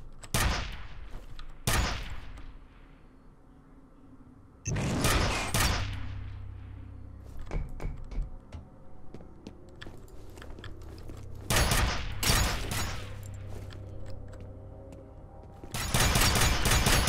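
Submachine gun fire from the first-person shooter game F.E.A.R., loud broadband bursts recurring across the stretch with lingering low rumble between them, no talking.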